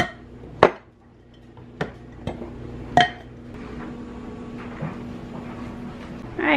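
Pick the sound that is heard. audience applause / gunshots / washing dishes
washing dishes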